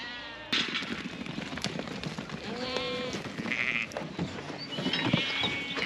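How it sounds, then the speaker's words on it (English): Suffolk hogget sheep bleat repeatedly in a pen during handling work, several overlapping calls near and far over scuffling and rustling noise. "Here's these Suffolk hoggets coming now."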